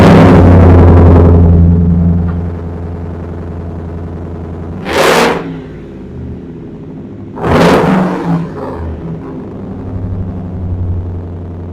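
A vehicle engine fitted with a new Roush exhaust replacing an old MBRP system, rumbling loudly at idle at first, then settling to a steady low drone with two short revving bursts midway.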